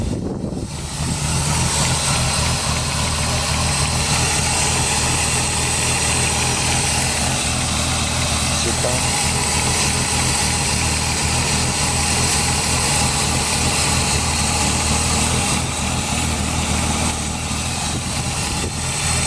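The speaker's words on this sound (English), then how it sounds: "Because the engine is running good." A BMW E36 engine idles steadily after a spark plug change, a loud, even, continuous rumble with a constant drone that holds unchanged throughout, without talk.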